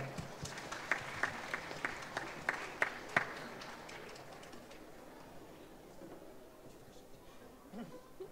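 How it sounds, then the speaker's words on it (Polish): Audience applause at a music concert after a performer is introduced, with a few sharp claps standing out over a steady patter, fading gradually toward the end. "Wielkie brawa."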